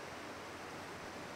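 Dutch Creek, a mountain stream beside a small campsite, gives a steady, even rush of flowing water, soft and continuous with no other sounds over it.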